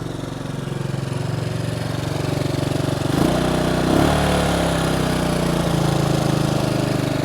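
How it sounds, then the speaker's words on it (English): A Bombardier Traxter 500 ATV engine idles steadily nearby, a continuous, even mechanical chug with a slight rise in pitch partway through, heard alone without talk. "when I walk around, all you'll hear is the motor"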